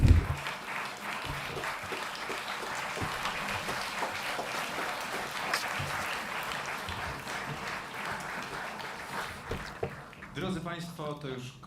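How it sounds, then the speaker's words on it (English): Sustained audience applause at an international literary award ceremony, dense, steady clapping from a large hall carrying on for several seconds, with a voice briefly audible near the end. "a round of applause for Nika Zendolowicz, Maria Tsepenko and Krzysztof Panek"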